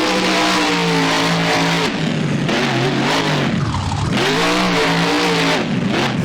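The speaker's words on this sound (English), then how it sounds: "And now some donuts by Rage." A monster truck engine in BeamNG revs loud and close while doing donuts, its pitch rising and falling in repeated surges with a rough, throaty drone and no talking.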